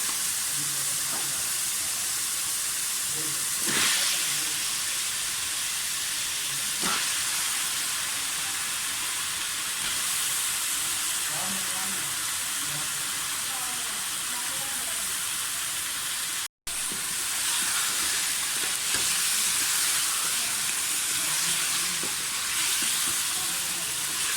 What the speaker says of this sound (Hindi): आलू को अच्छी तरह से भून लें।